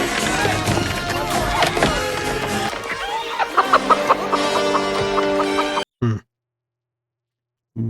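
A chicken clucks amid a dense film soundtrack of Rambo: First Blood Part II, with music and other sounds layered over it before the sound cuts briefly to silence.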